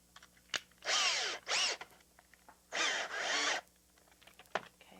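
A power drill with a square-head Robertson bit drives in an anchor for basement security bars, whirring in two short paired bursts, each rising and winding down, separated by quiet pauses with faint clicks.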